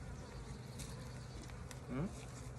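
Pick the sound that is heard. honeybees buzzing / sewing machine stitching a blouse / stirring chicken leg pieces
honeybees buzzing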